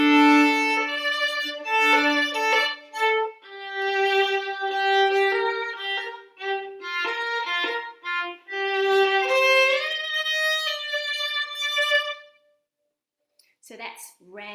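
Solo violin plays the opening of a short ragtime exam piece with rubato, clear bowed notes and slides in close, dry sound, ending in a brief pause.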